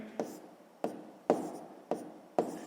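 A pen writing out a sixth-grade maths solution by hand, five sharp strokes at a steady pace, close and clear with no talk.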